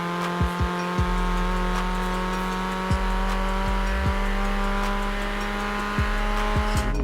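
Engine of a Vauxhall Corsa VXR in the racing game Forza Horizon 4, holding a steady loud drone with brief engine blips and shift bumps spread through the run.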